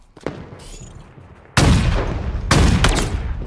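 Sniper rifle shots in Halo, two loud, sharp blasts a second apart that ring out and decay, following a faint earlier crack.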